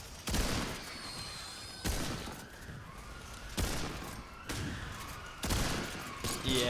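Gunfire in Remnant 2, played in VR through the UEVR 6DOF mod: five loud, heavy shot bursts land about every second and a quarter, each with a booming, ringing tail, and no talking.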